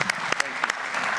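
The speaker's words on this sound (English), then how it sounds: "So help me please with a round of applause to our panelists." Audience applause for panelists at a symposium, a brief burst of clapping with scattered sharp claps, fairly close and moderately loud.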